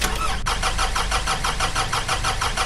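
A car engine in a Brazilian-style open-world Android driving game cranks and catches, then settles into a loud, steady rumbling idle with a regular pulsing throb, heard alone throughout.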